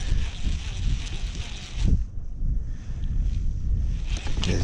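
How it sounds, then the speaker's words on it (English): Strong wind buffets a fishing kayak out on open water, a loud continuous rumbling roar against the microphone that eases briefly in the middle before building again. "It's definitely windier than I thought it was gonna be"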